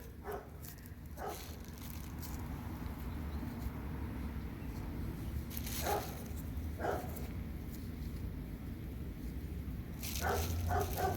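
Dogs bark at a home garden in a few scattered short bursts of barks against outdoor background noise, with birds also faintly present.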